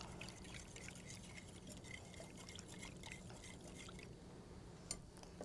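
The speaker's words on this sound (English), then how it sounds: "pour it over the chicken breast and let it chill for approximately an hour" A soft, steady pour of marinade over chicken breasts trickles continuously, quiet and close, with a small clink near the end.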